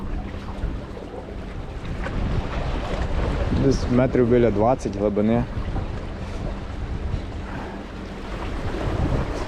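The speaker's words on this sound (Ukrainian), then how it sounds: "ще вітер дуже сильний сьогодні, робить дугу" Steady strong wind buffeting over open sea during winter fishing off Spain, with a low rumble of waves and boat noise, and someone speaks briefly in the middle.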